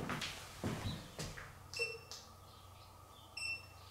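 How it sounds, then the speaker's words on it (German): A Xiaomi Mi Scooter 1S electric scooter being switched on gives short electronic beeps, one near the middle and another near the end. They are fairly faint amid light handling knocks in a quiet room. "Ihr habt das Piepen gehört."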